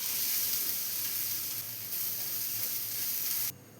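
Grated coconut sizzles steadily in hot coconut oil in a pan, an even, close frying hiss that cuts off abruptly near the end.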